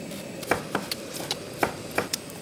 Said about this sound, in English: So finely chop the ginger between 1 and 2 tablespoons